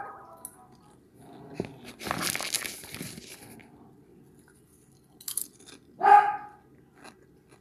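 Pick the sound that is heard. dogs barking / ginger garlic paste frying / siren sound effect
dogs barking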